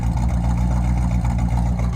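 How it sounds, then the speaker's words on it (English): A 1964 Corvette convertible idles with a deep, steady exhaust rumble, loud and close, holding an even low throb with no voices over it. "Listen to this exhaust. Exactly how you would want a 1964 Corvette to sound."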